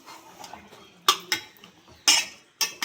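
A metal spoon scrapes and clinks in a pan as chicken is stirred and sautéed in masala, giving a few sharp, close knocks amid quieter scraping.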